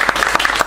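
Audience applause greeting an author at a book presentation, a brief burst of close, brisk clapping with individual claps distinct and fairly loud.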